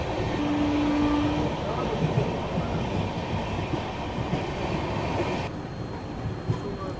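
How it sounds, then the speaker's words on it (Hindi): An Indian Railways passenger train runs at night toward Aunrihar Junction, heard from inside the coach as a steady rumbling roar with rhythmic wheel clatter and a brief squeal, with a voice talking over it. "अभी ट्रेन पहुंचने वाली है औडिहार जंक्शन"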